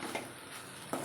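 Okra curry being stirred in a pan, a quiet, continuous soft sizzle with two brief scraping clicks from a utensil against the pan, close and faint, no voices.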